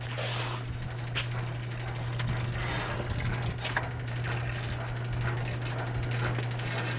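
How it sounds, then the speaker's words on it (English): An old wringer washing machine drains its water by suction, a close, steady electric motor hum running under irregular gurgling and clicking sounds of the draining water. "Now I'm draining the water out of this thing"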